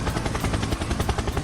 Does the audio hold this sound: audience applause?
no